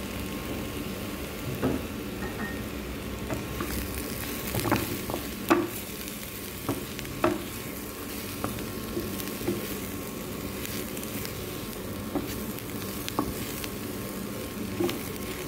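Sliced mushrooms sizzle in a pan: an even, moderately quiet frying hiss runs throughout, broken by scattered clicks and taps from a utensil, with no talking.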